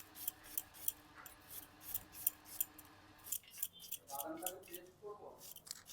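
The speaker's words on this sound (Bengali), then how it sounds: "পেঁয়াজটা অনেক পাতলা পাতলা করে কেটে নেবো ঝিরি ঝিরি করে একদম" A knife thinly slicing onion for rohu fish kalia: steady, rapid rhythmic taps and crisp cuts against a board, close up, with soft voices underneath.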